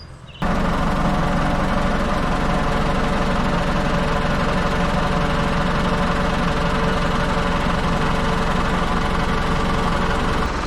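A tractor engine runs in first gear with a loud, steady low rumble and mechanical vibration, starting abruptly and continuing unbroken with no talk.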